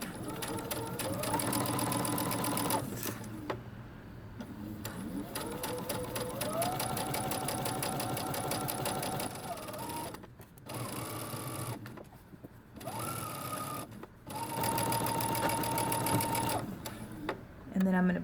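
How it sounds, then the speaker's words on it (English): A sewing machine stitches around a dress pocket in bursts of fast, even mechanical whirring, stopping and restarting several times between short pauses, close and clear, with a person talking in between. "Now we're going to sew around our pocket."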